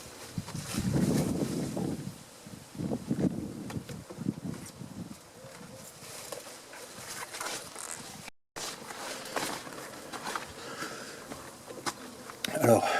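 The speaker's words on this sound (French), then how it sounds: "Il y a un bourdon qui vient se servir." A bumblebee buzzes around a honey frame during a summer honey harvest, a low droning hum that rises and fades as it moves, with soft handling noises and occasional voices.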